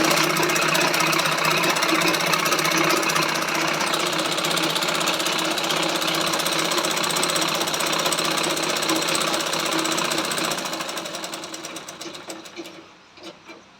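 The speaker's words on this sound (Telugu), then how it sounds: "దీన్ని తిరగేసి మళ్ళీ ఇంకో వేరే కుట్టు అయితే వేస్తున్నానండి." Sewing machine stitching a jacket lining: a loud, continuous rapid mechanical rattle held for about ten seconds, then slowing and winding down to a stop.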